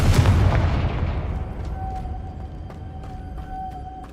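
A fiery Confringo blast spell in Hogwarts Legacy erupts as a loud, booming explosion that decays into a long rumbling tail, with faint crackles and tonal chimes lingering afterward.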